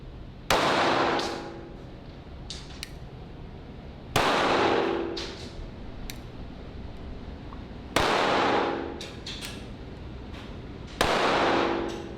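Four loud gunshots from a Tisas PX-57 5.7mm pistol at a shooting range, spaced a few seconds apart, each a sharp crack with a ringing decay.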